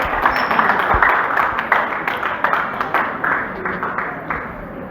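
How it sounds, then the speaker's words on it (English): An audience at an academic-industry gathering of an animal nutrition department claps in dense, steady applause that fills the room and slowly fades a little, with a voice talking over it. "A round of applause for you."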